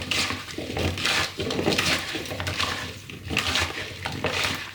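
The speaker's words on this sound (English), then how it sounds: "you mix until you can feel oil on all the chips" Hands toss homemade potato chips with salt, pepper and olive oil in a bowl, making soft wet rustling, squelching and clattering in uneven bursts that are close and moderately quiet, with no talking.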